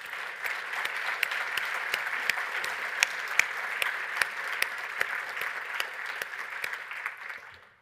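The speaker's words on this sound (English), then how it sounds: "I'd like to call for a round of applause for all of our presenters" A conference audience at a closing plenary session applauds its presenters with dense, sustained clapping that holds steady for several seconds before trailing off at the end.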